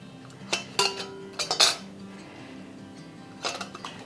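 Small glass honey jars clink and knock against one another as they are handled, giving a few bright, close chinks in irregular bursts over a low steady background hum.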